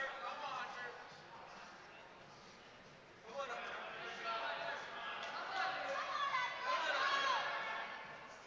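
Spectators at a provincial lead and top rope climbing competition semifinal cheer and react as a climber grabs a hold, a steady crowd roar swelling louder midway with whoops and mixed voices.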